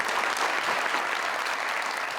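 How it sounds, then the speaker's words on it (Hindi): Steady burst of audience applause on a quiz talk show after a correct answer, dense and even clapping from a crowd filling the room throughout. "बहुत सारी तालियां"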